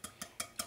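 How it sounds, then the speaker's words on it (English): Small whisk clinking against a bowl while egg and milk are beaten together, four quick, evenly spaced metallic taps, close and quiet. "and whisk it all up."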